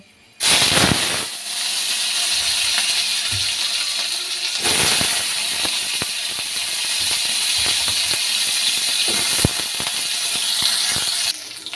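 Pointed gourd pieces hit hot oil with a sudden loud hiss that settles into a steady, intense sizzle with scattered crackles, close up.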